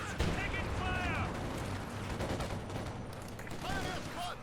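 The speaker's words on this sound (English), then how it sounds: "the Maxim in the garrison" A Maxim machine gun fires in a WWII strategy video game, with dense rattling bursts running under a commentator's voice.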